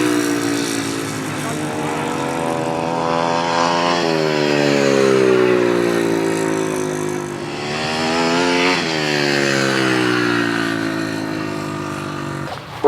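Engines of 500cc sidecar racing motorcycles roar past the finish line, a loud sustained high-pitched whine that rises and falls in pitch as machines sweep by, with a commentator talking over the engines.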